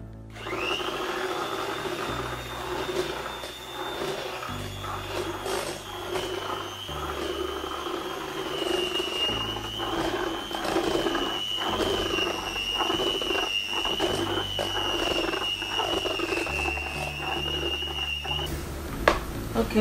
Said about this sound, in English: so I'm using my handheld mixer